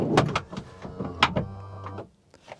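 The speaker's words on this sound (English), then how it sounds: "sliding doors also soft close." A sliding door on a Nissan Elgrand E50 minivan soft-closes with a few clunks and a short motorized whir, heard up close inside the vehicle.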